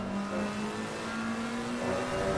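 McLaren 720S GT3 race car at Spa-Francorchamps accelerating hard out of a corner, a steady engine drone with the pitch climbing gradually, heard from inside the car with no talk.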